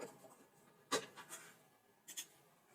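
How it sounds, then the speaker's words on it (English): Pen scratching briefly on paper while jotting down a timestamp, heard as a few faint, quick strokes in a quiet room. "So I'm just going to write the timestamp here."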